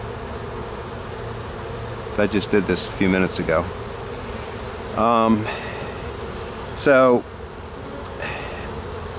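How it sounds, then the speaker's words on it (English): Honeybees hum in a constant close drone at a hive set up with a Cloake board for queen rearing, while a voice speaks in brief bursts over the buzzing. "Look at the way those bees are running up there."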